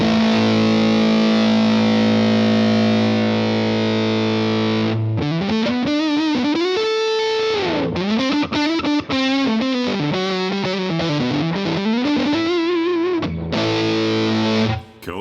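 Electric guitar runs through a fuzz pedal in Guitar Rig 6 software, first a long sustained buzzing chord, then a run of fuzzy melodic notes bending up and down, then a return to a held chord, loud and close with no talk.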